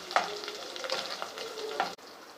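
Smashed boiled potatoes frying in about three spoons of oil for pav bhaji, a soft close sizzle with several scraping spatula strokes that stops abruptly near the end.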